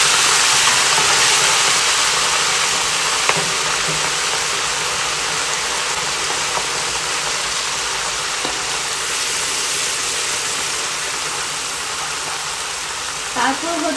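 Onions frying in a pan for a homestyle roast curry, with a little water added, give a steady broadband hiss and sizzle lasting throughout, fairly loud and constant, with a few faint clinks near the end.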